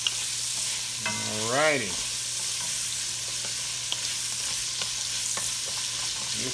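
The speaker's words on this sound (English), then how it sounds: "carrots and celery doesn't smell too bad when it's cooking" Carrots and celery cook in a pot for an old-school pot roast, giving a steady low sizzle with light stirring and occasional soft clinks, while a voice speaks briefly near the start.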